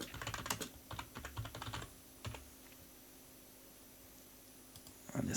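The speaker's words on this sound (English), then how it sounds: "we'll just type in password and password" Typing on a computer keyboard while entering login details in an online shopping cart: quick bursts of clicky keystrokes in the first two seconds, a lone tap near 2.3 seconds, then quiet before a final short flurry.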